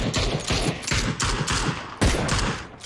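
Automatic gunfire from the video game PUBG rattles in rapid, loud bursts, close and continuous, with a heavier shot about two-thirds of the way through.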